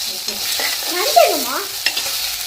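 Ginger garlic paste sautéing in a pan for crab and mutton kuzhambu, a soft close sizzle with spoon scrapes and stirring knocks, plus a brief squeaky scrape midway.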